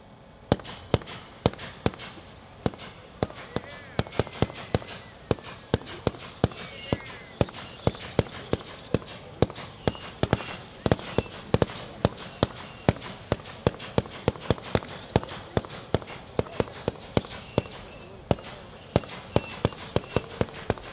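A Gunslinger Sizzlin Twilight 67-shot fireworks cake fires a long, rapid series of sharp bangs and crackles, with a steady rhythm of loud reports and a faint whistle over 21 seconds.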